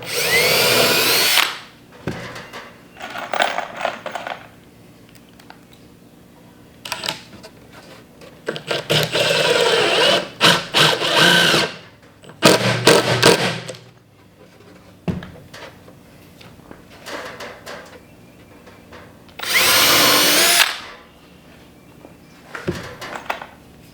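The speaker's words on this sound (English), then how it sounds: "we're going to pre-drill" A power drill whirs in several short bursts, pre-drilling cedar boards for raised garden beds, spinning up and stopping repeatedly at close range, with quiet pauses between runs.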